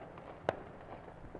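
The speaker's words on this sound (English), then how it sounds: "this is probably what you saw. Illegal fireworks." An illegal firework goes off on a street during Fourth of July night in the Sacramento area, a single sharp distant pop that stands out against faint background hiss.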